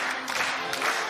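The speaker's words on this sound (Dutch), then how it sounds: "Stop even met het geklap als je nu wil." Studio audience clapping on a Dutch TV talk show, dense and steady across a short burst, loud and close, with faint voices mixed in.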